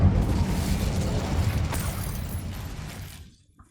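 A fire spell cast in the Hogwarts Legacy video game bursts out as a loud, dense whoosh and roar of flame. It holds steady for about three seconds, then fades quickly, with no voices over it.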